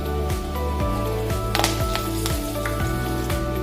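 Cumin seeds and curry leaves crackle and sizzle in hot oil for a tempering, with loud, close frying and sharp pops over a steady hiss and no talking.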